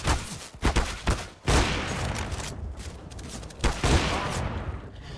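Rapid bursts of gunfire from a player shooting in the video game CS:GO: several sharp shot clusters in the first second and a half, then sustained fire that surges again near the end.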